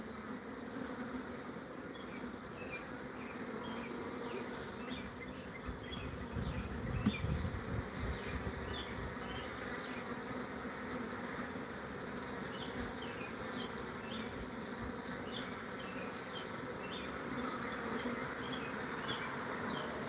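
A honeybee swarm hums steadily around a warm hive box, a continuous buzzing drone with faint individual bees flitting past close by, running unbroken throughout with no voices.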